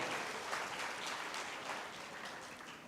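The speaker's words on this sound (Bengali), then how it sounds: "আমরা একটা করতালি মাধ্যমে তাদেরকে অভিবাদন জানাই" An audience claps at a student-organised motivational talk in Bangladesh, a steady wash of applause heard faint and at a distance, with no voices.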